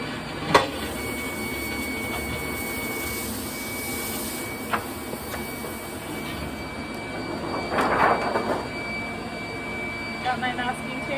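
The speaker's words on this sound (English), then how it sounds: "I'm going to turn on the vacuum because I don't want my print to move while I'm putting down the tape corners." The vacuum pump of a screen-printing exposure unit runs with a steady mechanical drone, punctuated by a few sharp clicks and brief rustles as tape corners are laid down.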